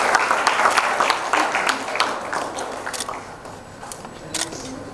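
Audience clapping at the India Brand Icon Awards 2022 ceremony, a scattered, uneven round of applause that starts fairly loud and thins out, with camera shutter clicks mixed in.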